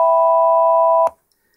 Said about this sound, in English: Press the modifier to minor, which sounds like this.